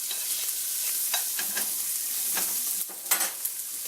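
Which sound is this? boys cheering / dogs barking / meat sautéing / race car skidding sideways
meat sautéing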